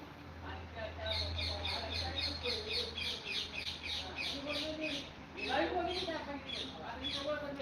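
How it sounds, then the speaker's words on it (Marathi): Birds chirp in quick repeated bursts at Machhodari Devi temple, rapid high tweets over a steady low hum, with people talking nearby. "पक्ष्यांचा आवाज"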